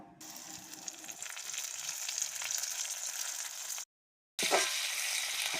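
Green chillies and curry leaves fry in hot oil for a beef curry, a loud continuous close crackling sizzle that cuts out abruptly for half a second before resuming just as strongly.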